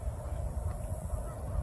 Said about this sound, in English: think they are Canada geese